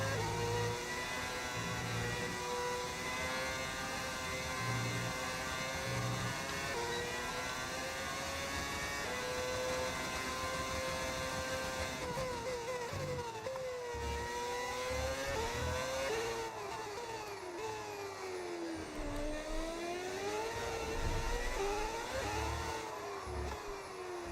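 An F1 car engine in the video game F1 26 revs continuously at close range, its high whine climbing and falling through repeated gear changes and sweeping pitch shifts.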